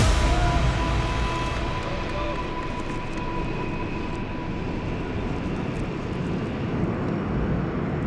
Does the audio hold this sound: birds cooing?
no